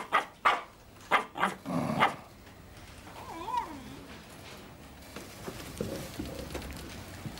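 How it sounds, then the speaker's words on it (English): A few sharp dog barks burst out close by, then a cat's drawn-out meow and fainter scattered animal noises follow. "Oh, now you've done it. You've got her barking."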